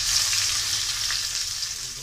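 Cumin seeds, onion and garlic frying in hot oil as a tempering, a steady close bright sizzle throughout with no voices.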